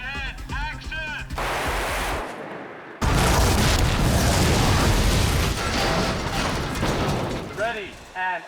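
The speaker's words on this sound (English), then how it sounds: "we have explosions and fire" Explosions and fire go off on a miniature film set with half-scale models: a loud sustained roar of blasts and burning cuts in after a shout and fills most of the stretch, then fades as voices return.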